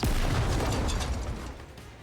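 A heavy explosion rumbles through the Ice dragon saga video game as a sustained loud, low boom with crackling debris, loudest at the start and slowly easing off.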